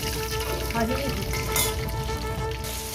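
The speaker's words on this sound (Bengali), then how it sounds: "পেটে চারটে মাছ ভাজি নিচ্ছি তেলের মধ্যে" Four pieces of fish fry in hot oil, giving a dense, steady sizzle and crackle with occasional sharper spits, close and loud throughout, with no talking.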